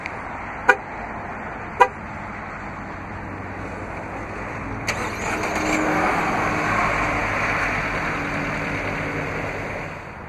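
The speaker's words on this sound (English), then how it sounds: "Just double press the remote start button on the key fob." A white 2016 Jeep Renegade Latitude 75th Anniversary Edition 4X2 is remote-started from its key fob: two short sharp chirps, then a few seconds later the engine catches and settles into a steady, moderately loud idle.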